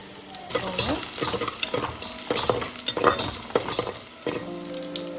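Garlic and ginger sauté in a pan for street-style mushroom soup, with a close, crackling sizzle broken by repeated scraping stirs and no talk.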